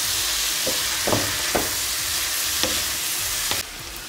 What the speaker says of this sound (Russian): И жарим около 1 минуты.